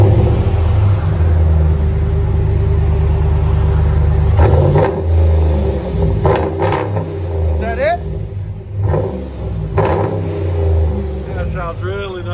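RAM 1500 pickup with a 5.7L HEMI V8 and a Black Widow muffler exhaust, a loud steady low rumble close by with a few sharp revs partway through and some faint talk.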